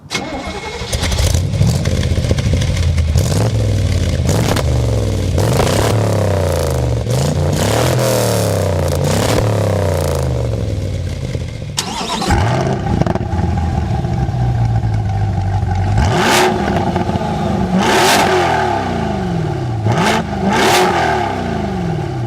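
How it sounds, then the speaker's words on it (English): Chevrolet Corvette C3 and C8 engines blipped in turn, loud repeated revs climbing and falling sharply, with a pause midway before a second round of quick throttle stabs. "let's do a good old-fashioned rev battle"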